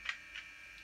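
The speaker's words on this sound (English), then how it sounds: "that's the train driver's door opens" A model electric locomotive's digital sound decoder plays a short train-driver's-door effect: two faint, quick clicks close together, then a softer third click, thin and small with nothing else around.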